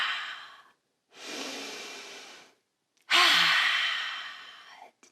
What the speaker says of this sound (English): Exhale, blow it out.